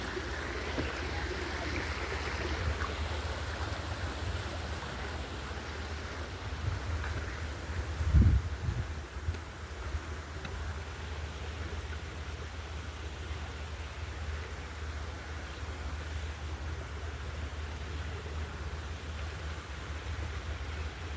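Stream water flows in a village setting as a steady, soft rushing wash that holds constant throughout, with one brief low thump partway through and no voices.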